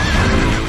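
A horse lets out a loud, close whinny at the Anilinang Festival horse beauty parade, a brief full-bodied neigh filling the moment without talk.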